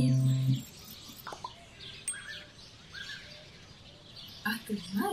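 Birds chirp and tweet in short scattered calls, fairly faint and spread over the clip, with a brief lower sound at the start and a few louder calls near the end.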